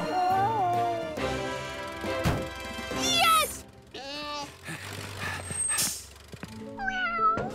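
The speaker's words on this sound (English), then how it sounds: "Oh, you silly cat, Pilchard." A cartoon cat on a building site gives a series of loud, drawn-out meows and yowls, some rising and wavering in pitch, mixed with other cartoon sound effects and brief pauses.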